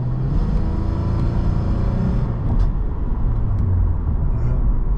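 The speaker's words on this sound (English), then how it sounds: "They still pop even with the valves closed." Tuned Lexus IS250 running with its exhaust valves closed in regular drive mode, a close, steady low rumble with a few faint crackling pops scattered through it.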